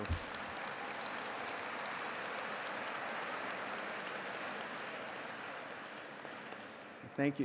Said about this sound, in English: Thank you for the sympathy applause